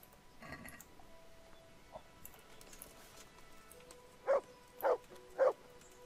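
Dog barking in the medieval video game Kingdom Come: Deliverance: three loud, evenly spaced barks close by, preceded by fainter yips and game tones.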